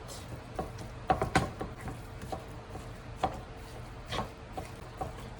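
Hamburger meat is broken apart in a pan on a stovetop over medium heat, with soft irregular scraping and tapping of a utensil against the pan, quiet and close with no talking.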